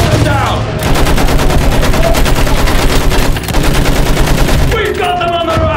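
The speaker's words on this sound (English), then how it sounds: "Use that machine gun! Pull them down!" Rapid sustained machine gun fire in the Battlefield 1 video game, with dense fast bursts firing close and loud in a rapid stream, broken by brief pauses. Shouting voices and battle noise sit under the fire.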